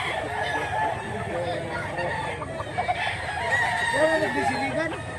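A big Claret-bloodline gamecock stag crows and clucks at a busy outdoor fowl market in Mantalungon, Cebu, its calls rising over a constant din of nearby chatter and crowd noise.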